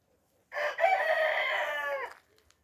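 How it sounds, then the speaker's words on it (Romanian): A single bantam Cochin chicken lets out one drawn-out, loud call lasting over a second, heard close up in an otherwise quiet coop. "aici sunt și moțatele, tocmai ce am filmat un clip cu ele mai devreme"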